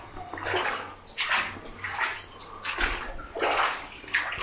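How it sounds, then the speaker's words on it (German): Water splashing and gushing in an underground mine passage with dark walls, in irregular loud surges and pauses, close by, with no talk. "jetzt scheint das Wasser komplett aufzuhören"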